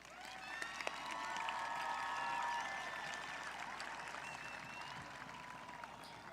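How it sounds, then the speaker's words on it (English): Applause from a graduation audience at a high school ceremony, a steady wash of many hands clapping at moderate distance, swelling slightly then holding and easing off, with faint crowd murmur and a few cheers mixed in. "Please join me in giving all these students a round of applause for their accomplishments."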